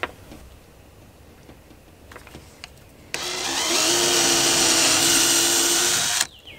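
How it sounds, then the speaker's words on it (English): A power drill runs with a 1/8 inch bit, boring a pilot hole halfway through a storm door in a mobile home, a steady high whine lasting about three seconds after a few light taps. "I'm going to do an 1/8 inch pilot bit to make sure I get dead center"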